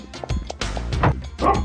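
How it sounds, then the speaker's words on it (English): A dog in the video game Grandia barking, yipping and whimpering in its sleep during a nightmare, several short close yelps in uneven bursts over about two seconds, with no talking. "The dog Buster is having a nightmare."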